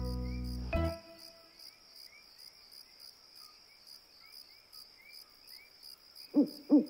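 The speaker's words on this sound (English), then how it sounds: "It's only the crickets, whispered Miffy. They always chirp at night." Steady cartoon crickets chirp at night in a continuous high pulsing trill, briefly opened by a low musical tone and closed by two soft hoots at the end.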